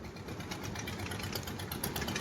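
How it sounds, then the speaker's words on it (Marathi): A ferry boat engine idling near Arnala beach on its run to the fort, a steady low mechanical chugging with a faint rapid rattle, heard at moderate distance among outdoor background noise. "ही बघा आमची फेरी बोट पण आलेली आहे आता."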